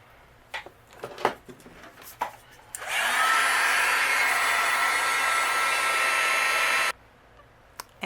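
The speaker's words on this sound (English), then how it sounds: "Using my heat gun, we'll go ahead and melt this." Heat gun blowing steadily for about four seconds to melt embossing powder on a cardstock greeting label, a loud even whoosh starting abruptly and cutting off, with light handling clicks around it.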